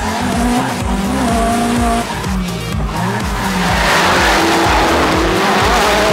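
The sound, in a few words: cars racing and skidding in team drifting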